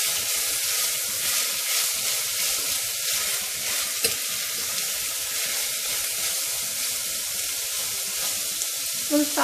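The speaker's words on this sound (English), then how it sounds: "We'll saute this until it gets a little brownish color." Onions and pepper frying in a pan with oil for Punjabi-style rajma, a loud steady sizzle with occasional stirring clinks, no talk.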